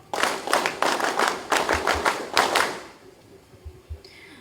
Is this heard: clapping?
yes